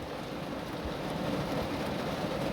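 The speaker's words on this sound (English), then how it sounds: "it's rain falling on top of my car" Rain drums steadily on the roof of a car, heard from inside as a dense, continuous patter, fairly close and even, with no talking.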